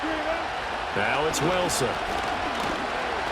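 Stadium crowd noise from a Madden NFL 25 football game between the Steelers and another team, a steady roar filling the background under a commentator's voice.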